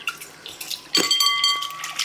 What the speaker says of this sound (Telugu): దీనిలోకి శుభ్రంగా నీళ్ళు పోసుకొని ఒకసారి కడిగేసుకోవాలండి